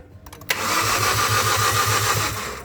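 A Hyundai Accent engine cranks but won't start: a sharp click, then a steady, close starter whir with regular low pulses for about two seconds and no catch.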